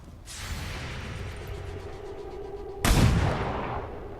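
Weapon fire in the XCOM 2 tactical game: a sustained rushing volley followed by one heavy, booming shot with a lingering roll-off, with no talking.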